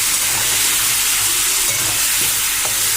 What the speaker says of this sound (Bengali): কাঁকড়াগুলো একটু ভেজে নিই।